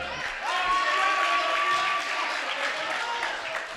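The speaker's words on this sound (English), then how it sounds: "Coach Maurer applauds, and rightfully so." A girls basketball game crowd applauds in a gym, a steady spread of clapping from the stands, with a long shoe squeak and commentary voice over it.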